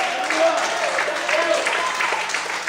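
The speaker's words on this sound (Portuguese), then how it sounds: "Pode aplaudir o Senhor, queridos." A church congregation at an evening service applauds in praise, a steady wash of many hands clapping at moderate distance, with a voice faintly present.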